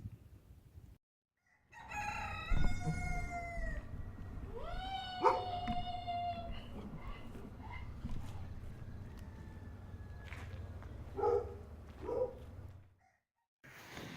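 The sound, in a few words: roosters crowing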